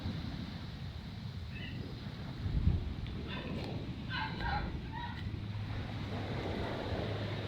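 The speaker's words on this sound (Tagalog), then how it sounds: "Grabing maray ang dalahay ng dagat dahil sa sobrang lakas." Strong sea waves and gusting wind batter a shoreline in rough weather, a low, continuous roar with wind buffeting the microphone and a brief thump partway through, faint and steady throughout.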